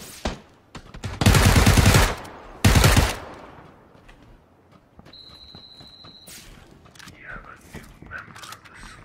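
Loud bursts of AK rifle fire in the video game PUBG, two long sustained volleys close by, followed by quieter game sounds and a high electronic tone.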